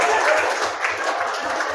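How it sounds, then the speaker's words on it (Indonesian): A workshop audience of teachers and staff claps for a guest, a brief burst of fairly loud, dense applause with a faint voice beneath. "tepuk tangan untuk Pak Asril ya"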